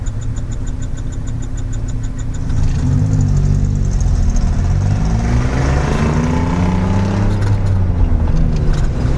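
A hydrogen and multi-fuel converted Geo Metro engine idles steadily with a low, rumbling hum that grows slightly louder partway through, continuous and close, with no talking.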